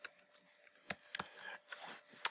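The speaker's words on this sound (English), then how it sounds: "type in your username, your surname, as we know, our first initial, possibly a number" Quick, close keystrokes on a computer keyboard as a username and password are entered, irregular light clicks with brief pauses, quiet and alone.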